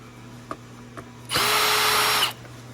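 A power driver backs Phillips screws out of the power head of a Hoover OnePWR cordless upright vacuum, one loud whirring burst of about a second between quiet stretches with faint clicks.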